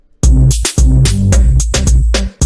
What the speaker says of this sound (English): It sounds a little more distorted because I used the capitator to get some like distortion